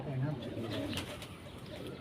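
A pink-ringed pet pigeon coos softly at close range in short, low, throaty bursts, with someone speaking nearby.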